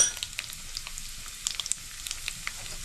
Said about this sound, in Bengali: দেখুন ঘিটা গরম হয়ে গেছে, আমি এর মধ্যে শুকনো লঙ্কাটা ফোড়নে দিলাম, আর জিরেটা দিয়ে দিচ্ছি।